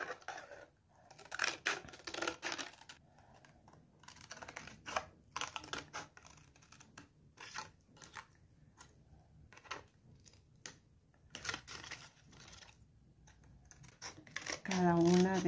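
Scissors cut a plastic bottle into oval flower petals, giving close, crisp, irregular snips and crackles of stiff plastic that come in bursts, with a voice heard between them.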